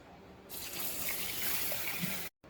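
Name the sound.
rinsing soaked rice in water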